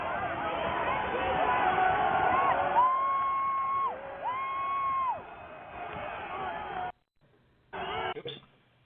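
Crowd noise from protest footage: a dense, distant roar of many voices with shouts and cheers, a siren-like wavering tone rising through part of it, and a speaker's voice over the top before it cuts out.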